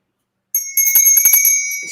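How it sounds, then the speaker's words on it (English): A bell rung as a spoiler warning during a horror movie review show gives one bright, sustained ring with a metallic rattle, loud and close, with no other sound around it. "Spoiler bell."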